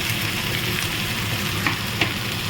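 Snake gourd paste hits fried onions in a hot pan, giving a loud, steady sizzle with faint stirring scrapes throughout.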